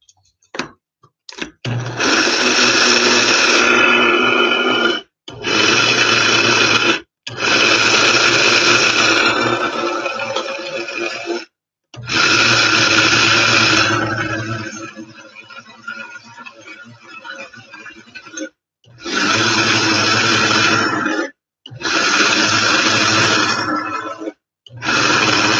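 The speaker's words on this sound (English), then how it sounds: "I'm going to have to grind this again because I still got chunks of elderberry" A blender grinds elderberry in repeated loud bursts, roaring steadily for several seconds at a time with short pauses between runs.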